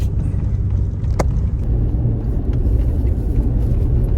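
A car driving along a dirt track in the Simpson Desert, a steady loud low engine and road rumble from inside the cabin with a brief click partway through.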